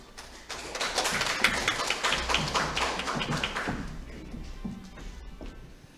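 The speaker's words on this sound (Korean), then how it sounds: "큰 박수로 맞이해 주시기 바랍니다" Applause welcomes the host at a volunteer general assembly for senior citizens in a hall, a dense burst of clapping from a crowd lasting several seconds before thinning out, with faint talk underneath.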